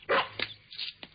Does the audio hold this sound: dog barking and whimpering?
yes